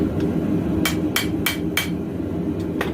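A hammer forges the tang of a clip point knife blade, striking about six sharp, ringing metallic blows at an uneven pace over a steady low background hum, with no talk.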